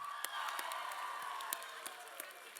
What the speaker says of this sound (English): Please keep on clapping, guys. He truly deserves a round of applause.